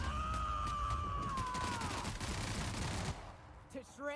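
Sustained rapid gunfire in The Outer Worlds sci-fi shooter rattles on under a sliding electronic tone, fading after about three seconds into quieter game sounds.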